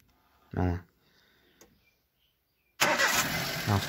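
Chevrolet Cobalt engine firing up after a relay cuts the starter: a short cranking burst, a pause, then the motor catches and settles into a loud, steady run close by.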